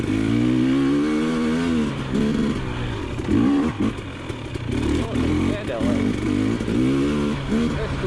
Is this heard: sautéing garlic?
no